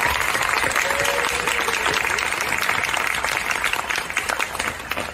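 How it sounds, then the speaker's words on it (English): A gala crowd at an LGBTQ center's anniversary celebration gives steady, dense applause, loud and sustained throughout with a faint voice briefly underneath. "Round of applause, please."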